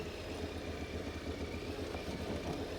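Motorcycle engine braking on a steep, rough track descent, a steady low rumbling drone with faint clatter held at even loudness throughout, no voices.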